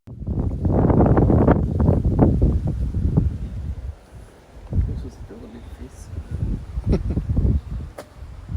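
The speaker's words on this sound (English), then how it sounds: "God, it's windy." Strong outdoor wind gusts buffet the microphone in heavy low roaring bursts at a street market, easing off midway and then returning in weaker gusts.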